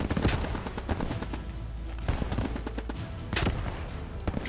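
Bursts of machine gun fire crack out in a WW2 video game battle, dense rapid volleys with sharp overlapping shots, loud and continuous with brief lulls between.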